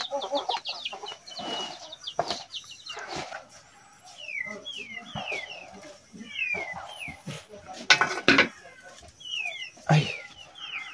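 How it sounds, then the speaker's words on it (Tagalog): Several chickens cluck and chirp nearby in an outdoor setting, with scattered calls and a few louder bursts amid background noise. "Ang dami ba talagang manok dito sa amin?"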